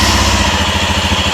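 A Royal Enfield Scram 411 motorcycle engine running loud and close, a steady thumping single-cylinder pulse with no talk.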